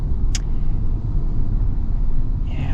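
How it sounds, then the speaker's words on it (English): A large SUV's V8 engine rumbles in a steady, continuous low drone while driving, with a brief higher-pitched tick early on and no talking. "Gotta love the V8 sound."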